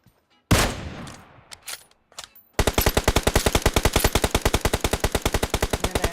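Rapid automatic gunfire from a video game battle royale match, loud and steady after a few scattered shots and a noisy burst at the start, with no talk over it.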